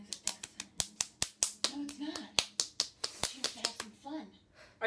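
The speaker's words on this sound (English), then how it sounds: "Are you clapping? What's the clapping for?" Sharp hand claps repeat in a quick, uneven run close by, about two dozen in a row, while voices talk beneath and between them.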